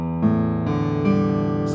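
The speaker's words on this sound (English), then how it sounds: "I'm gonna quickly show you how my guitar is tuned," Acoustic guitar in an altered tuning, strings played one after another to show it, each note ringing close and overlapping the next in a quick sequence with no talking.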